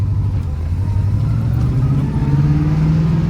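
A 1979 Pontiac Firebird Trans Am on the move, its engine droning steadily from inside the car and climbing slowly in pitch as it accelerates, loud and continuous with no talk over it.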